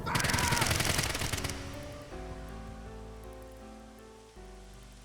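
Rapid automatic gunfire rattles in the video game AI: The Somnium Files Nirvana Initiative, a loud burst of about a second and a half that gives way to sustained, droning musical tones.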